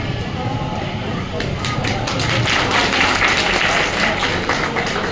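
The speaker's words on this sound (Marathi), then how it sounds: "टाळ्या वाजवून हा जो काय आपला अहवाल समोर सादर केलेला तो पास" An audience at a village development association meeting in Tirwade bursts into applause, the dense clapping swelling after a moment and holding steady while voices murmur underneath.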